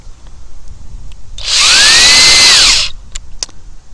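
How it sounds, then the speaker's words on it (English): A power drill drives a universal socket onto a stripped bolt in one loud, close whine lasting about a second and a half, its pitch rising then falling as it winds down, with faint clicks before and after. "And it drilled it in there just fine"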